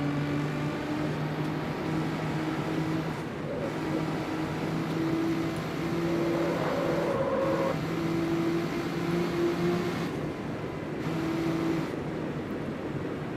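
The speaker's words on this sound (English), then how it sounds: "It does almost sound like I got a good Nissan motor in there" A Nissan engine in CarX Street hums and revs in a steady drone with a few rises in pitch during club drift races, moderately loud and continuous, no voices.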